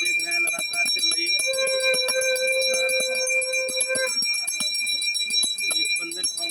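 A conch shell is blown during Durga Puja worship at an organized puja festival, giving a sustained bright tone for a few seconds amid bell ringing and a busy crowd.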